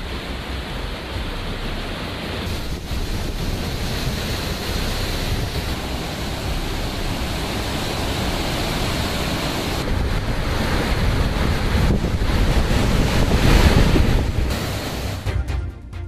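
Floodwater roars down waterfalls as a dense, continuous rushing wash that stays loud and steady for the whole stretch and swells a little toward the end, with no voices.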